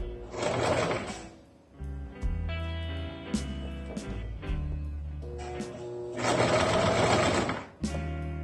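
A sewing machine stitches along the pleated edge of a fabric medical-style mask, running in steady loud bursts with a brief slowdown and short pauses between runs, close and alone.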